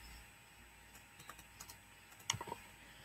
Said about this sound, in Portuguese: Digitando a minha senha de root